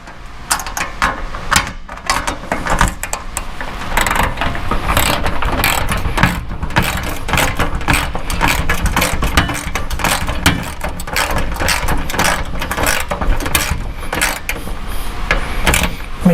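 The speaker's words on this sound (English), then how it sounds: "I'm going to tighten this one all the way down" A fastener is tightened on a Ford Bronco during a Slipstream install, a rapid close ratchet clicking that runs almost nonstop, with brief pauses early on.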